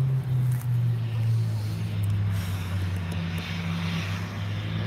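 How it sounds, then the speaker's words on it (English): A jet aircraft passes overhead during a stormy day, a steady low engine drone holding throughout at moderate distance, with faint outdoor background noise and no talking. "There's another jet."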